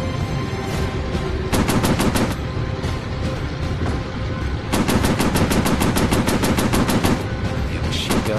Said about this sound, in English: Damn machine guns. We're overheating too fast.